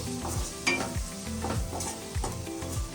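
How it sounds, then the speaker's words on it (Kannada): Chopped tomatoes with salt sizzle in a hot pan for a mushroom masala while a spoon stirs them in steady repeated scrapes, close and clear, with no voices. "ಉಪ್ಪು ಹಾಕಿ ಚೆನ್ನಾಗಿ ಮಿಕ್ಸ್ ಮಾಡಿಕೊಂಡು"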